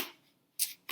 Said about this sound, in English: I was just about to sit here and meditate and shuffle the cards